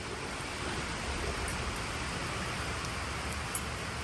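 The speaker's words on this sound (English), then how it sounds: "it's raining outside." Rain falls outside in a steady, even hiss with no breaks, soft and diffuse, alone without voices.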